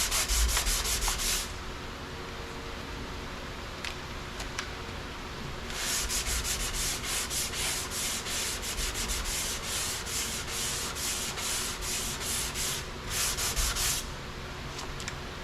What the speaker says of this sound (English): What the 180 grit does, it takes out the sand scratches of the 80 grit